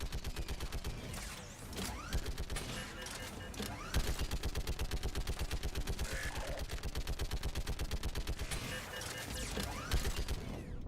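Rapid, sustained bursts from a machine-gun turret in the Mass Effect game, a dense rattling of fire running almost continuously, loud and close, with mechanical clatter mixed in.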